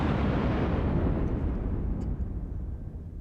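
A warship's guns fire at an enemy ship in a naval video game, a heavy booming blast that rolls out into a long low rumble with faint pings after it.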